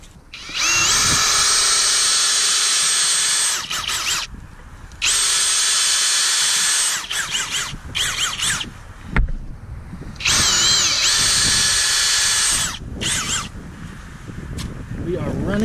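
A power drill bores a tap hole into the southeast-facing side of a maple tree in Maine, running in three loud, sustained bursts separated by brief pauses and rustling handling noises.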